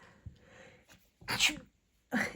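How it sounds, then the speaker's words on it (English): Two sharp sneezes burst out close to the microphone, separated by a short pause, after some quiet breathing and rustling. "this kind of sneeze actually means approval"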